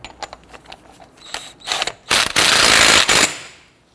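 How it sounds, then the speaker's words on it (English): A ratchet snugs down the axle nut on a 2006-2014 Honda Ridgeline 3.5L V6 during a front left CV axle replacement: scattered close clicks, then a loud, fast ratcheting burst lasting about a second before it stops. "Install your axle nut and snug it down."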